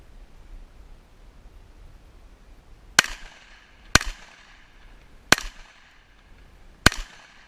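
Four sharp gunshots from a real gun ring out about a second apart, each a loud crack with a brief echoing tail over quiet outdoor background noise.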